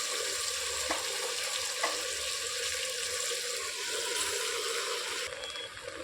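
Steady sizzling of spinach sautéing with tomato and onion in a pan, a continuous hiss with a couple of light clinks from stirring, no talking.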